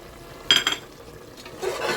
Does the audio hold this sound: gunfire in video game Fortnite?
no